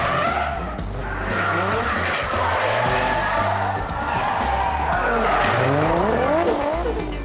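A car drifts, swinging one way then hard the other, its tires squealing in long wavering shrieks over a loud revving engine, with a faint crowd behind.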